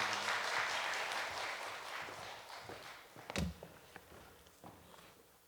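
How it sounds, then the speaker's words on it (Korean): A church congregation at a special early-morning prayer service applauds to welcome a pastor to the pulpit; the dense clapping fades over several seconds, with a few footsteps and a knock near the end. "우리 박수로 사랑합니다 환영하겠습니다"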